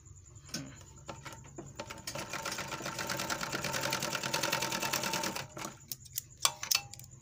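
An overlock sewing machine runs a stitching pass, a fast dense mechanical chatter that starts after a few clicks, holds steady for several seconds, then stops with scattered handling knocks.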